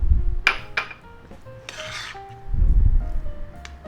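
Chopped onions tipped from a board into a bowl for a grilled ham-steak sub, a couple of quick scraping rasps and clinks followed by a softer rubbing slide, close and clear with no talk.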